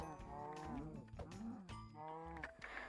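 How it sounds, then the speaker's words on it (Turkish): Minecraft cows moo in a game, several drawn-out, wavering lowing calls in a row, close and clear, with no talk. "İnek var. inekleri öldüreceğim arkadaşlar."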